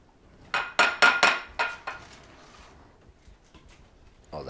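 A plastic Tupperware container is handled in a kitchen while making hummus, with a quick run of sharp clacks and knocks followed by softer scattered taps, close and fairly quiet.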